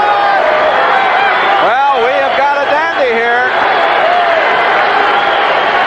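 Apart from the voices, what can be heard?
stadium crowd cheering at the Kingdome, NFL football game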